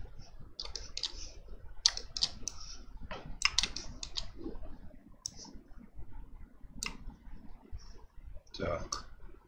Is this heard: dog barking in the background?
no